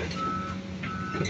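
Reversing alarm from a truck and payloader beeping at a work site, two steady electronic tones separated by a short gap, moderately distant under a low engine idle.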